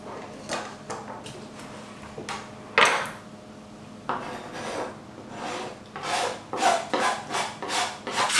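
Lime zest is rasped off on a grater for a gin and tonic cake: repeated scraping strokes close up, some brief and some longer, with a quicker run of short rubs near the end and no talking.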